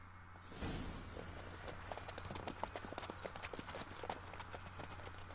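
In The Witcher 3: Wild Hunt, the horse Roach gallops with rapid rhythmic hoofbeats, close and steady, over a low background hum.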